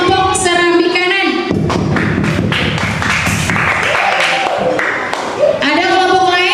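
A classroom of students applauds a student group after its presentation on blood circulation: a burst of clapping runs beneath a teacher's voice, with children's voices rising around it.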